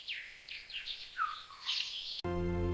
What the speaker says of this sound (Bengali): পাখির ডাক ফিরছে।